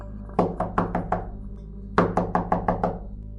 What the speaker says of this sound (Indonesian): 5 menit kemudian pintu kamarku diketuk.